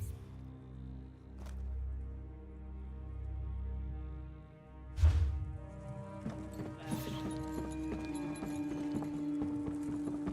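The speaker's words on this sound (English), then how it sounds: "Why was there a donkey in the Thieves Guild?" Donkey hooves clip-clop in Elder Scrolls Online, in the Thieves Guild, as a steady series of game footsteps over ambient music with a couple of sharper knocks and no speech.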